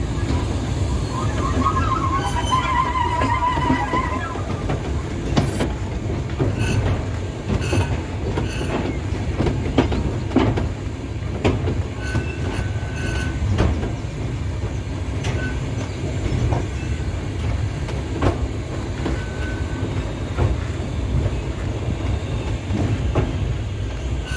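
A steam train hauling old wagons pulls into the main platform at East Tanfield on the heritage Tanfield Railway during a steam gala, a continuous rumbling roll of wheels with occasional clanks and faint squeals, fairly close and steady throughout, without speech.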